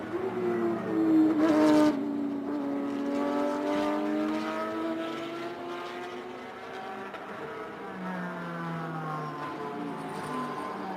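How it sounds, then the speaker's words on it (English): GT3 and GT4 race cars howl past on a circuit at a Super Series round, layered engine notes rising and falling continuously as several cars pass close, with a loud burst near the start. "And GT4 leader right here getting passed by GT3 cars."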